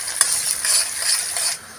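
Chopped onions sizzling in hot oil, a bright hissing fry with light stirring scrapes, close and steady before fading at the end.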